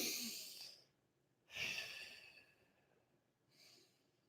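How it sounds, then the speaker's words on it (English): A deep inhaled breath drawn during a guided meditation, a soft airy rush that swells and fades, followed by a second fainter breath, close and quiet with no talking. "So just take a deep breath"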